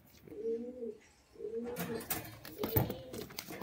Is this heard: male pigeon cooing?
yes